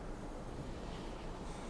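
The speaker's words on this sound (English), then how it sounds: "it's so windy" Wind buffets the open deck of the cruise ship Island Princess at sail-away from Alesund, Norway, a steady low roaring rumble that fills the whole moment with no voices.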